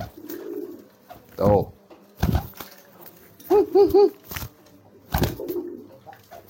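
Racing pigeons coo in short bursts, a few soft throaty rolling calls spaced apart, close and clear in a quiet loft, with a brief spoken word among them.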